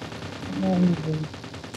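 Gunfire in the mobile battle royale game PUBG Mobile in Rage Gear mode, heard as a burst of shots lasting about a second, with a voice speaking over the game.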